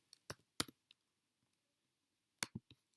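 A few sharp keyboard clicks land in two small clusters separated by a quiet gap, close and fairly soft, with no talking.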